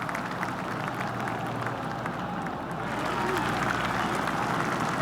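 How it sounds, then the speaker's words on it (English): Spectators at a course in the PGA Tour 2K25 video game give soft golf claps, a steady, faint patter of scattered clapping under ambient crowd murmur. "Oh, I can hear the golf claps around the course."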